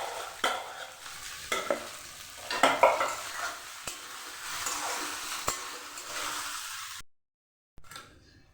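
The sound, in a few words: cooked rice being stir-fried in a pan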